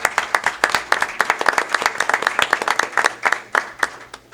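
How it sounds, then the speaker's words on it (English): Applause at a village board meeting for an open house team, a modest group of people clapping with individual claps clearly audible in an uneven rhythm. "so a round of applause for them"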